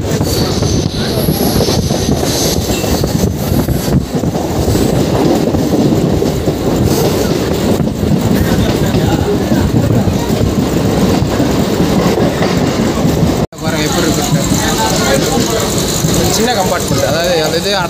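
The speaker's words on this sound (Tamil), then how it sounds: "இருங்க ட்ரெயின் நிற்கட்டும்" A local train rumbles steadily along the tracks with rhythmic clattering of wheels, loud and close throughout, with a brief dropout near the end.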